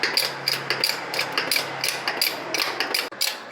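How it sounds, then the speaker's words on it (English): A car jack is pumped to raise a vehicle during a suspension bush replacement, giving a steady rhythm of close metallic ratcheting clicks with a brief pause near the end. "We've got to jack that up a little bit."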